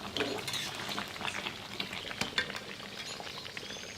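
Oil sizzling gently in a pan over low heat while a roast is being cooked, a steady soft crackle with occasional louder pops and a faint stir or utensil clink, no talking.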